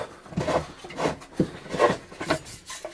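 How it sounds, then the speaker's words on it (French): A fitting is unscrewed by hand inside a Bürstner Eliséo C644 campervan, giving a series of close, rhythmic rubbing and scraping turns, about five short strokes. "En fait, je viens dévisser."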